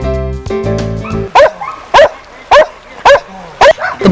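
Karelian Bear Dogs bark in a steady series of about five loud, sharp barks spaced roughly half a second apart, preceded by a sustained tonal whine; the dogs are trained to hold grizzly bears at bay.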